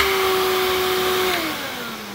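A Miele De Luxe S126 stick vacuum cleaner runs with a steady, fairly quiet whirring hum whose pitch dips slightly as it winds down toward the end.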